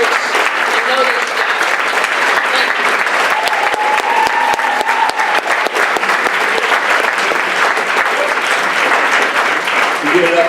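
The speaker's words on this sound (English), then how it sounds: "So clap it up for yourselves." At a motivational sales talk, an audience applauds loudly and continuously, a dense crowd of clapping hands that holds steady throughout with a voice faintly beneath.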